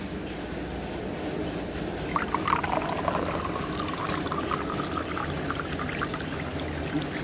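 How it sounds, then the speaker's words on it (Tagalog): Steady rushing water pours into a cooking pot of vegetables, a continuous splashing flow with brief bubbly gurgles, close up and alone. "Oh, pwede nang lagyan natin ng tubig"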